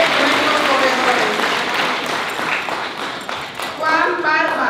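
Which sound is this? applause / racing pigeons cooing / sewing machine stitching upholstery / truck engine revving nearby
applause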